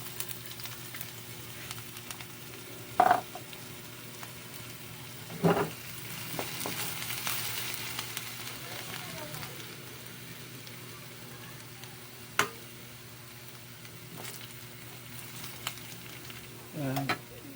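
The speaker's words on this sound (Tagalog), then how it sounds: "ibisa natin bawang natin" Garlic sautés quietly in a pan for a chicken estofado, a faint sizzle running throughout with a few sharp clatters of a utensil against the pan.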